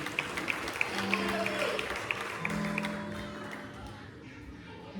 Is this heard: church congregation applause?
yes